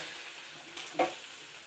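A soft, steady sizzle of dosa batter frying on a hot pan, with a brief louder crackle near the middle.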